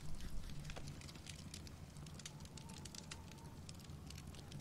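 A fireplace fire crackles in The Walking Dead: Season Two video game, a faint, steady bed of pops and snaps under a low hiss, with no talking.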